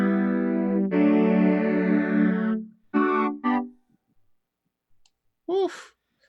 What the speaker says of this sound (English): right now I'm using this as a tape machine